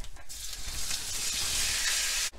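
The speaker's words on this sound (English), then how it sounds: "people would brown the meat in batches, and I'm kind of lazy in that sense where I'll just try to do it all at once" Beef chuck meat browning all at once in a pot for a spicy chile colorado stew, a steady loud sizzle with hissing spatter close up, sustained without talk until it cuts off near the end.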